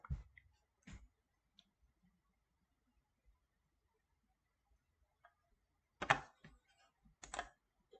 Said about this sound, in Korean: F5를 눌러서 갱신을 해보면